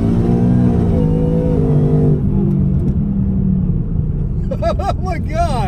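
A 2018 Mustang with a Whipple 3.0 supercharger and 10R80 automatic accelerating hard, heard from the cabin: a loud, rising whining engine roar that climbs through a gear, then eases off, followed by excited shouting from the occupants.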